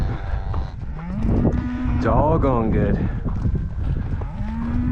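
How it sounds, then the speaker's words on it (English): Cattle moo in low, drawn-out bellows, one long call rising in the middle, over steady outdoor rumble, with someone briefly speaking, as a herd is trailed out on a ranch. "we got these cattle trailed out pretty good"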